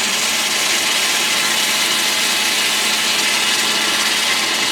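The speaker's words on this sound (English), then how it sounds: "Oh, there's sparks going on in there." Electrical sparks arcing inside an HP 6035A high-voltage power supply running at around 400 volts, making a loud, steady, dense crackling hiss that continues unbroken throughout and sounds close, with no voice present.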